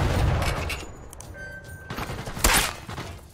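Gunfire in the Sniper Elite VR shooter game, played on an Oculus Quest 2: a loud burst at the start, then a quieter gap and another sharp shot near the end.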